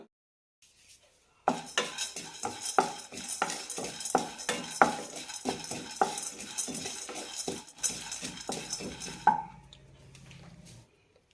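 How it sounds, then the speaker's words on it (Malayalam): Roasted gram and garlic are dry-roasted in a pan, a spoon clinking and scraping in a steady run of sharp strokes after a quiet start, with a faint sizzle fading out at the end. "കാൽ കപ്പ് പൊട്ടുകടലാണ് എടുത്തിരിക്കുന്നത് കൂടെ തന്നെ ഒരു ടേബിൾ സ്പൂൺ വെളുത്തുള്ളും നന്നായി റോസ്റ്റ് ചെയ്തെടുക്കാം"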